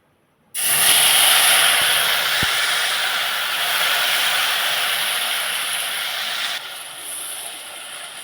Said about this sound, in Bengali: এবার তেলটা গরম হয়ে গেছে, দিয়ে দেবো যে রসুনের পেস্টটা করে রেখেছিলাম সেটা।